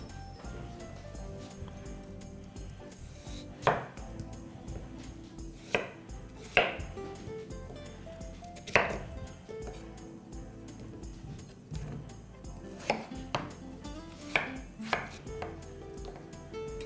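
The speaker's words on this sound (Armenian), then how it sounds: "առաջարկում եմ կարտոֆիլը մանր կտրատել," A kitchen knife chops potatoes finely on a cutting board, a quiet run of crisp, irregular taps with a few sharper strikes, close and alone.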